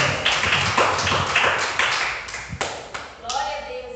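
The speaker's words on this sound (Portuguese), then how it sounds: "Vamos receber a serva do Senhor com as palmas que exaltam o Senhor Jesus." A church congregation claps to welcome a woman preacher at a service on baptism in the Holy Spirit, with rhythmic clapping from many hands, close and lively, thinning out as voices rise near the end.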